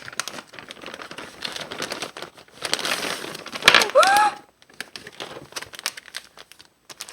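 A package is torn open by hand, giving rustling, crinkling plastic and paper that swells into a louder ripping tear partway through, close and dry, with a voice talking around it.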